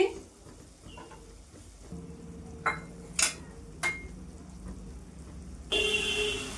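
Spice paste frying on low heat in a pan for a Bengali paneer and chana dal dish, a quiet steady sizzle with a few sharp spoon clicks, swelling louder near the end.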